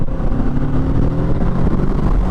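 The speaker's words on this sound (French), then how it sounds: "Bah attends, petite accélération quand même." Kawasaki motorcycle accelerating, a loud low engine drone with rising harmonic tones, steady and close, with wind noise and no talk.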